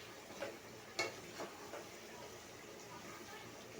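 Rooster curry of a homegrown desi cockerel stirred in a wobbly kadai, with a few scraping clinks of the spoon against the pan over a faint steady sizzle, quiet and close.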